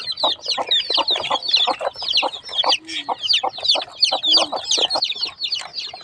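Chicken chicks cheep in a rapid, overlapping stream of high, thin peeps, close by and continuous, with several birds calling at once.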